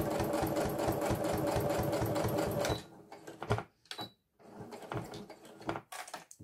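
A domestic sewing machine stitches a seam, its steady rapid whirring chatter running for a few seconds before stopping, followed by softer clicks and handling sounds.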